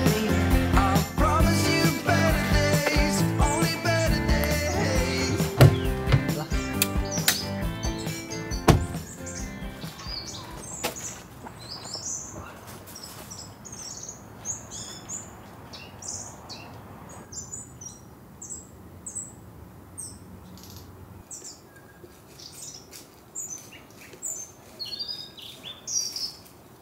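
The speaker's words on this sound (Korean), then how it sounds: "새소리도 너무 좋고" Scattered bird chirps and tweets ring out in the open air of a forest campsite, first under music, then alone in a quieter setting with distant calls.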